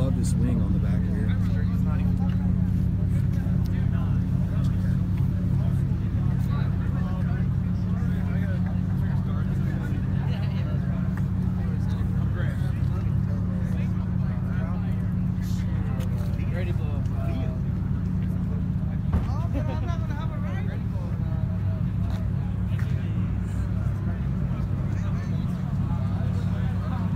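A Mazda RX7 engine runs steadily on a cold late night, a loud, constant low-pitched drone with a rough throb heard from inside the car, while people talk over it.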